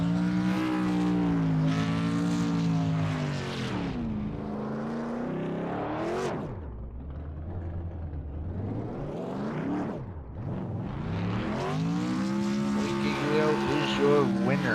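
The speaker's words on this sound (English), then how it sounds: "As Blake is doing his burnouts across the track." A modified race car in iRacing at Indianapolis Raceway Park does burnouts, its engine roaring loud and close and revving up and down in long sweeping pitch swings, with commentators talking over it.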